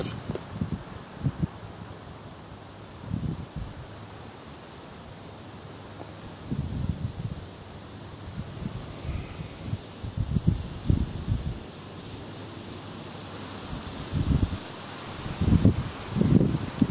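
Wind gusting through autumn leaves at a mountain state park campsite, a steady broad rustle swelling and easing in repeated surges, fairly close to the microphone.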